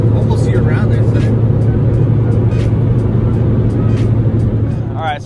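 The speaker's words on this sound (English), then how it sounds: "Driving the car a little bit more." A Ferrari 458 Italia drives along a road with a steady, loud engine drone and tire rumble throughout, easing off slightly at the end.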